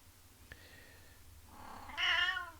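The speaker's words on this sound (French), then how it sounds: "les miaulements de chat pour réveiller vos chats" A domestic cat gives a faint, short meow, followed by a louder, drawn-out second meow, heard alone against a quiet room background.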